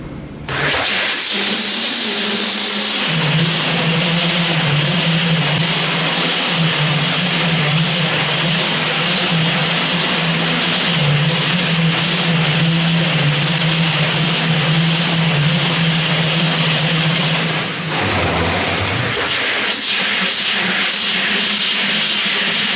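Slitting rewinding machine for BOPP tape running in a factory, a loud steady whirring hum with a constant hiss, holding at speed before winding down briefly near the end and starting again.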